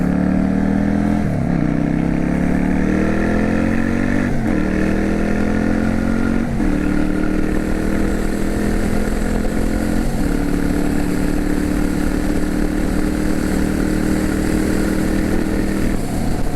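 A Yamaha V Star 650 Classic motorcycle engine runs loud and close for the whole stretch, its steady drone stepping up in pitch several times as it pulls through the gears.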